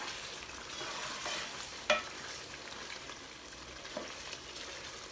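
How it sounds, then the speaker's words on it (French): Onion for chicken yassa fries in a pan with a steady soft sizzle. A utensil stirs and scrapes it now and then, with one sharper clink partway through. "on laisse cuire encore un peu l'oignon"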